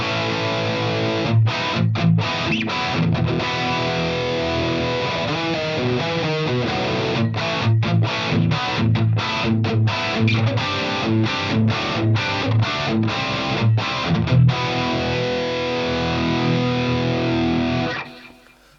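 Distorted electric guitar played through the Spandex and Hairspray factory preset on a Fractal modeler, a dense 80s-style chorused tone with rhythmic chopped chords running steadily and loud before cutting off at the end.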